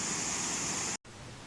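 A waterfall roars nearby as a loud, dense and steady rush of water, broken only by a very brief cut before it resumes, with no talking.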